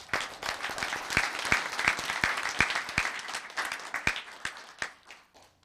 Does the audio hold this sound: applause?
yes